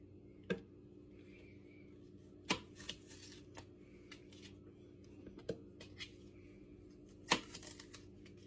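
A knife slicing peppers into thin strips on a cutting board, sparse sharp taps and crisp cuts spaced a second or two apart, quiet and close with little else around.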